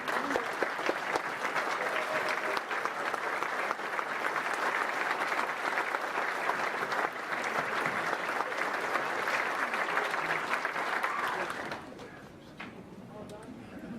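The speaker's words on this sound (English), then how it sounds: "give a round of applause, like a standing ovation to the Bristol Sports Hall of Fame tonight" A standing ovation at a Bristol Sports Hall of Fame event: loud, sustained crowd clapping that holds steady for about twelve seconds, then drops away abruptly to quiet room tone.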